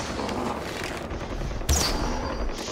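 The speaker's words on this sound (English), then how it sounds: "why are people shooting all the time?" Continuous gunfire rattles through a Far Cry 4 firefight, with dense overlapping shots and a sharper, louder burst near the end, no voices present.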